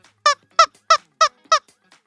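Five short, squeaky chicken squawks, likely voiced imitations, repeat in an even rhythm at close range, each a bright harmonic chirp separated by brief silences.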